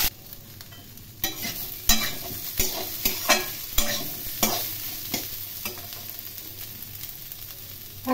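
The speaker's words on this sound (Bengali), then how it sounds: "ফুলকপি ও আলু খুব ভালো করে ভেজে নেব।" Cauliflower and potato pieces frying in oil in a pan for a Bengali-style curry, a steady sizzle broken by a series of sharp scraping stirs of the spatula, close and fairly loud, with no speech.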